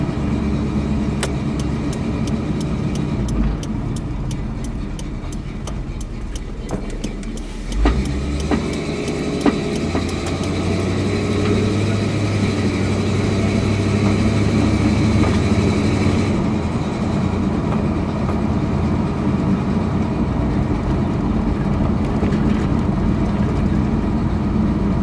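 Car cruising on a winter test drive after a new heater blower motor install, a loud steady rumble of engine and road noise with fan whoosh layered in, shifting slightly in tone partway through, no talking.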